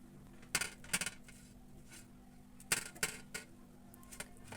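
A spoon or fork clinks and scrapes against a plate while spread is mashed onto bread, a few quiet, sharp taps in two small clusters over near silence.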